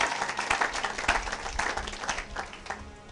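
A church congregation clapping and applauding in praise, heard as steady, dense applause close by and continuing throughout, with faint voices mixed in.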